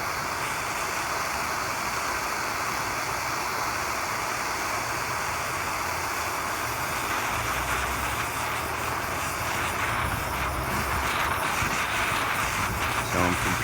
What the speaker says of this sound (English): So I'm competing against a little bit of wind here.